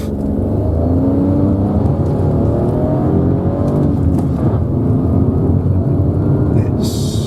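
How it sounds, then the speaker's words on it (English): A 2021 Renault Clio pulls away uphill from a standstill, engine droning steadily and loudly from inside the cabin with a slowly rising pitch, cut short by a brief click at the end. "let's see how this thing accelerates"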